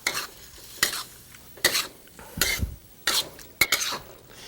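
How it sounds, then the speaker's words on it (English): Scrambled eggs with cream and black pepper being stirred in a pan, with a soft sizzle under a series of distinct scraping strokes of a utensil against the pan, about six separate strokes spaced roughly evenly, close and fairly quiet. "give it a final stir."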